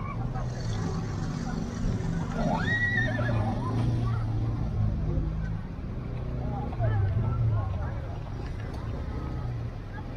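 A large horse gives a loud whinnying neigh near a busy riverside in Jeddah, with a second shorter whinny later, all under steady crowd chatter and talking.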